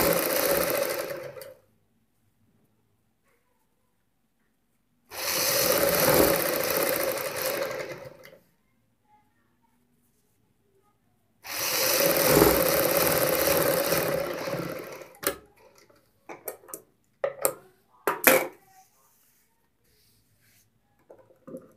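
A sewing machine stitching a seam on salwar fabric runs in three loud, close bursts separated by silence, followed by a series of short clicks and taps as the fabric is handled.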